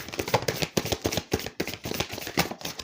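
Playing cards shuffled by hand for a card reading, a quick run of crisp riffling bursts in steady rhythm, close and fairly loud with no talk.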